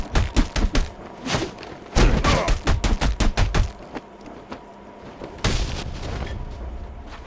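A loud, close exchange of gunfire in Batman: Arkham Origins, with rapid bursts of shots and heavy thuds coming in clusters and a sharp blast near the end.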